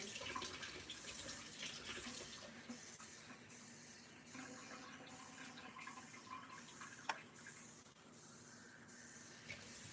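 Cold water runs steadily into a glass of oxymel drink, a soft continuous pouring hiss lasting about ten seconds with a few faint clinks and no talk.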